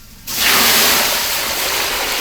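Plain water pours into a pot for honey candy, starting suddenly with a loud, continuous splashing hiss that stays near and steady to the end, with no talking.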